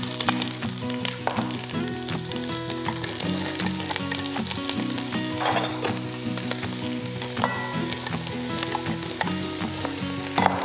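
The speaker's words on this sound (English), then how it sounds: "Then I saute these aromatics until they begin to soften." Chopped carrots, celery and onion sauté in olive oil in a pan for minestrone, giving a loud, continuous sizzle with faint stirring and music in the background.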